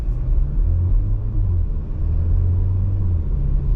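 2022 Porsche Macan base model engine pulling under acceleration, a steady loud low rumble with a droning engine tone heard from inside the cabin.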